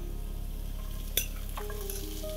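Finely chopped onion and thickly sliced white onion with ginger hitting hot oil for tempering in a pan, a steady close sizzle with a sharp clink of a utensil midway and faint stirring, no talking.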